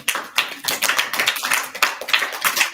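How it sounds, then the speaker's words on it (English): Children give a round of applause, with quick, uneven hand claps that run without a break for a few seconds at close range. No voices are heard. "Everyone give a round of applause."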